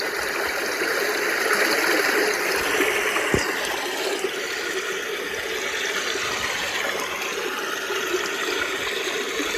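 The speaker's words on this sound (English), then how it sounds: "that is the water sound effect." A Sound Spa sleep therapy machine plays its water sound effect, a steady rushing stream-like hiss with trickling texture, close and continuous, with one brief knock partway through.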